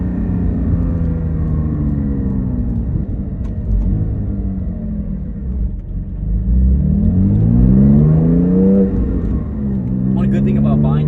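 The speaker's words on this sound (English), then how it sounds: "If I clutch in and go to second, it's gonna auto rev match." Porsche 718 Cayman GT4 engine heard from inside the cabin, loud low droning while cruising in third, then a clutch-in downshift to second where automatic rev-matching blips the revs up in a rising sweep before settling, with a voice talking over it.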